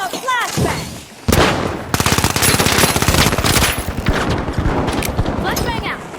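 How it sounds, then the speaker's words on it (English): Flashbang and gunfire in The Finals video game: rapid bursts of automatic shots rattle almost continuously over several seconds, loud and close, with a sharp burst partway through and a voice talking over the action. "Throwing a flashbang."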